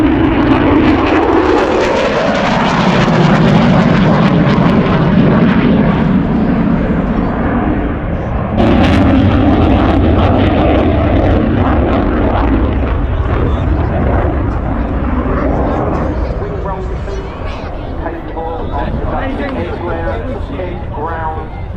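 B-17 Flying Fortress aircraft flying past at an airshow, a loud, rumbling multi-engine propeller roar that swells and shifts in pitch as it passes, then fades, with a voice speaking and crowd chatter underneath.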